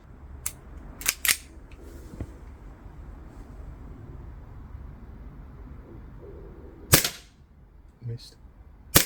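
An Umarex Beretta M9A3 CO2 BB pistol firing 4.5mm BBs outdoors in bright sun at a target about 8 meters away: several sharp, close snapping pops, a quick pair early on and scattered single shots later, over a low steady background hum.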